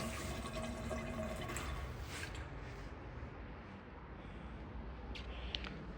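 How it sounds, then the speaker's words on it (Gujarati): Tap water runs into a wash basin in a soft, steady rush, faint and continuous, with a few light splashes near the end and no talking. "નળની ક્વોલિટી ચેક કરો કઈ રીતે પાણી આવે છે"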